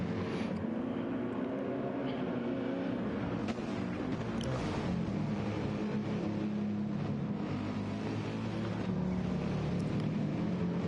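A race car in the Nürburgring 24 Hour 2023 drives through the banked Carousel corner, its engine droning loud and continuous at close range, with rough bumpy undertones and shifting pitch for about eleven seconds.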